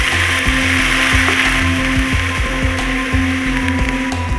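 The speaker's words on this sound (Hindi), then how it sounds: "ये 2 चम्मच जो है लहसुन अदरक का पेस्ट है, ये ऐड कर देते हैं और इसको भी ज़रा फ्राई करते हैं।" Garlic-ginger paste fries with onions in a pan for crispy fried okra, giving a loud, steady sizzle close up, broken by soft rhythmic stirring knocks and no speech.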